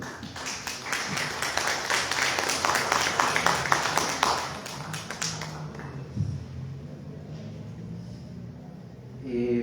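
Applause from a conference audience at an academic history panel session, a dense patter of clapping for about five seconds that then fades into quieter room noise and shuffling.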